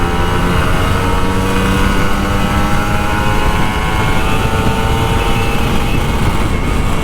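A Kawasaki Ninja RR 150 motorcycle revved at full throttle, its engine a loud, continuous, buzzing roar that holds steady throughout at close range with no talking.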